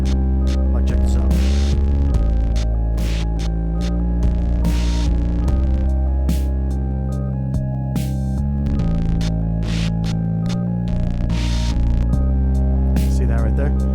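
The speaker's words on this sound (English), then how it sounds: "So I'm running it through a Game Changer audio plasma pedal. It's like a distortion" Electronic drums fed through a Game Changer Audio Plasma distortion pedal, heavy buzzing hum with sustained tonal drones and sharp, repeated distorted hits breaking through a gritty, saturated texture.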